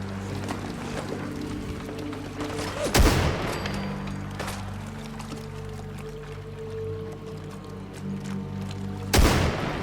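Two loud, sharp booms of sniper rifle fire in the video game Fallout 4, spaced about six seconds apart, with a low ambient game drone in between.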